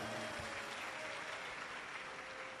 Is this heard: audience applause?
yes